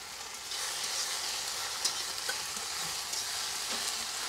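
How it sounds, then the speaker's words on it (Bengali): Green chillies splutter and fry in hot oil in a pan while cooking a Bengali tengra fish dish: a steady, close hiss of sizzling with occasional sharp pops and crackles throughout. "এই যে লঙ্কা ফাটিয়ে নিচ্ছি, দিয়ে দেবো লঙ্কা"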